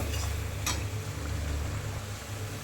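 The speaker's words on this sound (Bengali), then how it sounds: "ভালোভাবে মশলাটাকে কষিয়ে নেব" Spice paste being cooked down in oil in a pan for a kochu and fish curry, a low steady sizzle with one quick scrape of a spatula early on.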